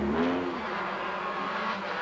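Subaru rally car on a tarmac shakedown, a steady engine roar with a brief rising whine at the start, fairly faint and uninterrupted.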